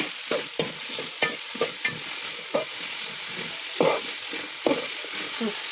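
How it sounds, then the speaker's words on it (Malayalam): Onions being stirred into fried coconut pieces in a pan for chicken curry, with a steady sizzle broken by regular scraping strokes of a spatula, close and clear with no talking. "തേങ്ങ മൂത്തതിൽ ഉള്ളി ഇട്ട് ഇളക്കാം"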